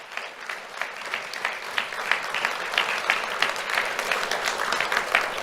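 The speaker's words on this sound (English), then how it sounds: "let's have a round of applause for Tiago Leone Barabe" An audience gives a round of applause for an elementary school student at a Do The Right Thing awards ceremony, many hands clapping in an uneven, crackling rhythm that holds steady throughout.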